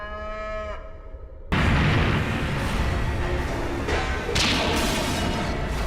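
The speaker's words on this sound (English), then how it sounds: "free-range cattle are thriving" Free-range cattle on the open plains of Western North America give one clear, drawn-out moo, which is abruptly cut off by a loud, sustained roar of broadband noise.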